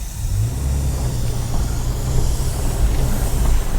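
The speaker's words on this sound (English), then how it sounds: "Time for the test drive." A Toyota FJ on a test drive after new front struts: a steady, close engine and road rumble with low drone and broadband wind and tyre noise, holding even throughout, no voices.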